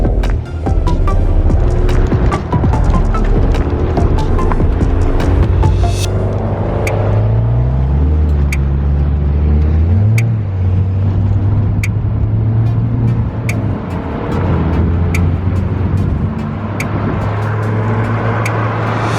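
A Mitsubishi Evolution X pulls away, its engine rumbling loud and close at first, then revving up through gear changes as it moves off, with no talk.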